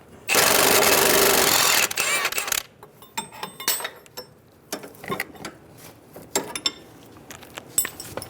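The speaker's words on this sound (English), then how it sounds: "Using an 18mm wrench, we're going to hold the back of the sway bar while using a 15mm socket to remove the nut." A 15mm socket on a ratchet works loose the sway bar nut on a 2000-2007 Ford Focus, with a loud burst of mechanical noise followed by scattered close ratchet clicks and metallic taps.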